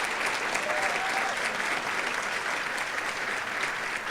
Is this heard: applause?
yes